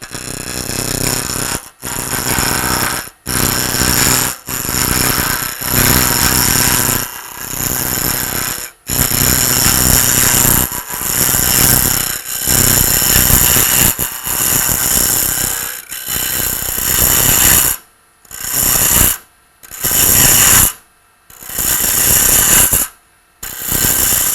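Wood lathe turning a pen blank while a scraping tool cuts, a loud continuous rough grinding and whirring broken by brief pauses, with short choppy bursts toward the end.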